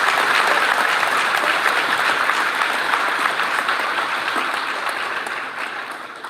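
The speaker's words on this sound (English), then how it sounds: "Let's give these scholar student athletes one more round of applause" A banquet audience applauds scholar student athletes at a high school fall sports awards night, dense steady clapping filling the room for about six seconds before easing off slightly at the end.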